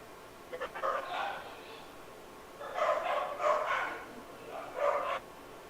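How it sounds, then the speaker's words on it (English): Dogs barking at a distance, a few short bursts of yips and barks in separate clusters, faint and thin like sound picked up over a call connection. "We heard dogs barking."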